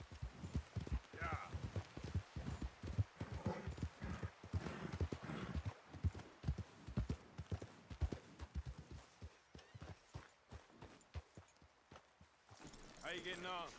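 Steady clip-clop of horse hooves in the video game Red Dead Redemption 2, with voices talking over them, a horse whinnying briefly near the end.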